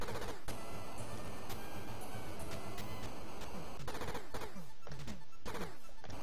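Gunfire in the TurboGrafx-16 game Bloody Wolf, a dense run of rapid chiptune shots with regular sharp cracks, steady and fairly quiet, with no voices.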